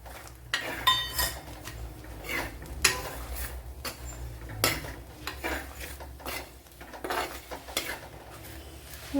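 Dried red chillies are tossed into coconut roasting in a pan for a Kerala squid curry, with metal spoon scrapes, stirring and clinks against the pan over a faint sizzle, steady and close.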